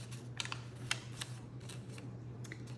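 Paper is creased and folded into a simple origami box, giving faint, crisp clicks and crackles in small scattered bursts over a low steady hum.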